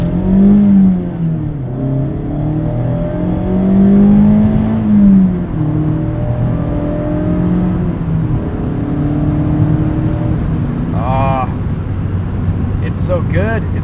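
A 2017 Mazda MX-5 Miata engine pulls under acceleration from inside the car, a steady rising drone with shifting harmonics, loud and continuous, with a brief higher whine near the end.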